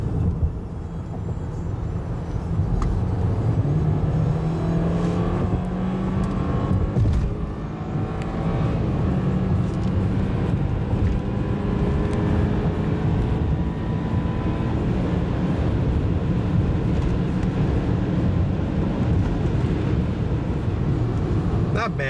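Engine of a heavy 2013 BMW 528i xDrive sedan accelerating hard from a 40 mph cruise on a test run, a steady loud drone with rising harmonic sweeps and road rumble throughout.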